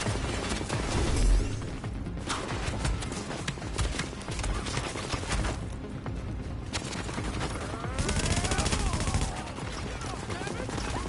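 Light machine gun fire in The Division, with sustained bursts of rapid shots and loud clattering combat noise running through the whole stretch, louder in places, with some voice mixed in.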